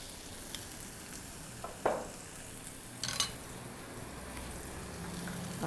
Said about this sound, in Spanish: Vamos a hacer que se sofría. Para que dore muy rico.